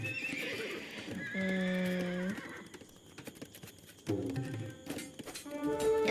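Horses neigh in the Age of Empires II video game, with two distinct whinnies, one in the middle and one near the end, over a busy backdrop of game effects and clip-clopping hooves.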